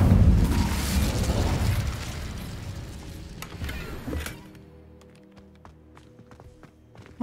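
The Incendio fire spell from Hogwarts Legacy bursts with a loud, roaring whoosh of flame that fades over several seconds into a quiet room with faint scattered ticks.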